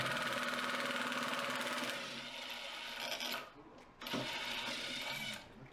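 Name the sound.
Dewalt battery powered impact driver running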